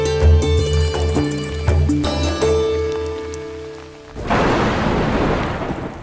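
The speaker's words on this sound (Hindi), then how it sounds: "बारिश की रिमझिम फुहारों को ही लीजिए" Steady rain hisses and patters across the recording, heavier and noisier in the final couple of seconds, with low rumbling and music-like tones underneath early on.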